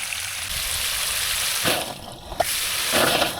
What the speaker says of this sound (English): it'll start spitting and sputtering when it starts becoming more air than water